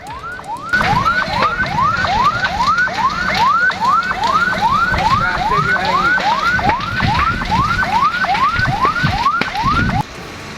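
Fire engine sirens wailing at a fire scene in a village in Situbondo, East Java, where two food stalls burned, with a loud, rapidly repeating rising whoop cycling steadily for about ten seconds and no talking.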